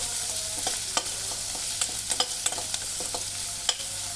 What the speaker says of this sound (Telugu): ఉల్లిపాయలో పచ్చిదనం పోయేంత వరకు వేగనివ్వండి ఉల్లిపాయని లైట్ బ్రౌనిష్ కలర్ వచ్చేంత వరకు